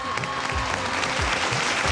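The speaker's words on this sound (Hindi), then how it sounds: "बहुत सारी तालियां" Studio audience clapping steadily throughout on a Pakistani television show, a dense, even wash of applause from a crowd, no talk over it.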